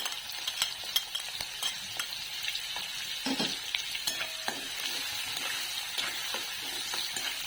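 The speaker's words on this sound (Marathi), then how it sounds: "त्यानंतर घालते बारीक चिरलेला कांदा" Finely chopped onion frying for Malvani-style poha, with a light, steady sizzle and frequent sharp spatula scrapes and taps against the pan, fairly quiet and close.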